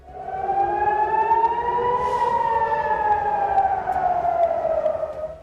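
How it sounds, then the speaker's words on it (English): An Israeli civil defense siren wails steadily, its tone slowly rising and falling as it carries loud and sustained through the whole stretch, with no voices over it. "the sirens emit a high-pitched wailing sound, oscillating in tone to command immediate attention"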